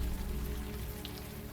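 Steady rain falls in a story-driven video game, a dense, even patter of drops on surfaces that fills the background at constant loudness with no speech.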